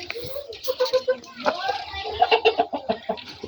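A multicoloured hill rooster clucks in a series of short, close, rhythmic calls, with a voice talking over them.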